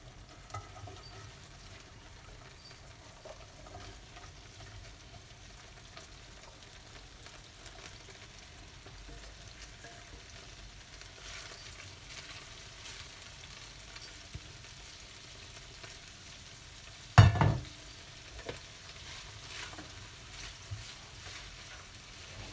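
Onions fry in a pan for a chicken and onion sauce, a quiet steady sizzle running throughout, with one sharp loud clatter of a utensil or pan near the end.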